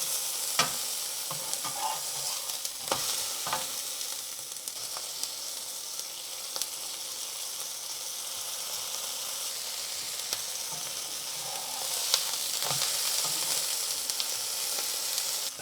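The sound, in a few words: pesto paratha frying in olive oil on medium heat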